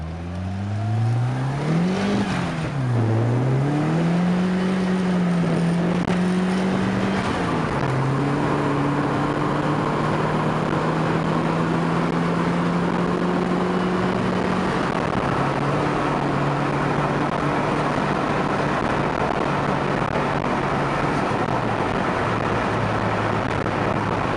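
A Ford Escort RS Turbo with a 1600 engine driving hard, loud and close from inside, the engine note climbing and dipping through gear changes before settling into a steady drone, with turbo lag as the revs build.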